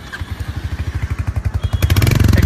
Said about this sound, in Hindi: और एक बार आपको बाइक का मैं एग्जॉस्ट नोट सुना देता हूँ।